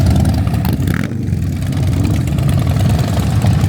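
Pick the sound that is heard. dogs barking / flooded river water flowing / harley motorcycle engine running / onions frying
harley motorcycle engine running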